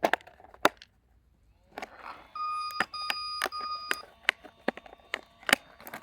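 A WLToys 124008 RC car gives off a series of short electronic beeps and a sustained tone among scattered clicks and handling knocks, close by and loud against near silence.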